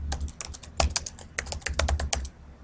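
Typing on a computer keyboard while editing a Word document: quick, irregular bursts of close key clicks, with brief pauses between runs.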